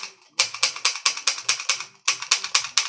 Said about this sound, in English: This gun doesn't really do much. It just makes the shooting sound.